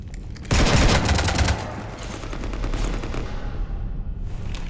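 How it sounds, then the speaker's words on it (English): Rapid machine-gun fire strikes a ship in Mass Effect 3, a loud rattling burst of rounds for about a second, then continuing clatter and hum of the combat scene. "You want to stop shooting up my ship?"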